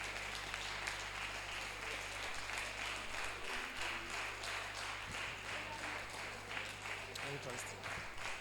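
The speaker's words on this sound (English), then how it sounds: "The applause is different. It must be special to them." Audience applause at a hospital event honoring a Director of Nursing Services, a dense steady wash of many hands clapping that runs throughout, with speech faintly present underneath.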